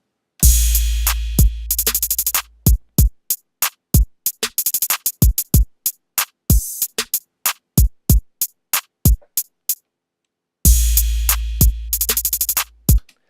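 A full hip-hop percussion pattern plays loud and alone, deep sustained 808 bass with punchy kicks and rapid crisp hi-hat ticks in steady rhythm, dropping out briefly before the low end returns.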